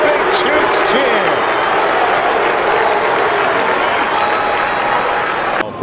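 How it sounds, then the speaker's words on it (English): A Philadelphia baseball crowd cheers and applauds for a player at the plate, a loud continuous wash of stadium noise that holds steady throughout, with a commentator talking over it. "Even the Philly fans give him the big Chooch cheer"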